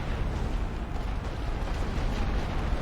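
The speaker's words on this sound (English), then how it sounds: "They're using a backwards rolling barrage here." A rolling artillery barrage in The Great War: Western Front strategy game makes a dense, continuous roar of overlapping explosions. The low booms blur into a steady rumble with no pauses for the whole stretch.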